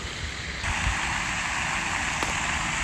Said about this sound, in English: And this is our cool waterfall.